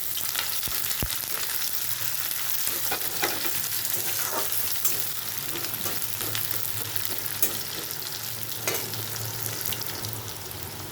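Chopped onion and garlic with whole garam masala sizzle steadily in hot oil in a pan, a continuous close frying hiss broken by occasional stirring scrapes and clinks, with no talking.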